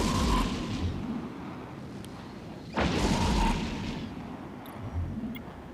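Missile fire and explosions in the space game EVE Echoes, from a Cyclone II Command ship: a sudden sharp blast followed by a broad rumbling burst, set among steady low booming and whooshing launches.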